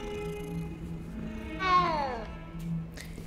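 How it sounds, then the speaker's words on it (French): A cat meows and purrs in the Hogwarts Legacy video game, a steady low purr under a rising, wavering meow near the middle, close and clear with no talk over it. "le chat ronronne."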